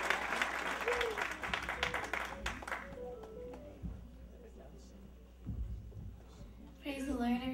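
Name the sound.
applause for Robin and Esther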